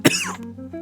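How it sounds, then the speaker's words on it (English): One sharp, close cough bursts out at the very start and fades into a short throat-clearing rasp, followed by a low, steady background hum. "Hopefully I'm not getting my father's cough."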